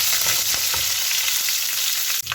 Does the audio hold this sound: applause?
no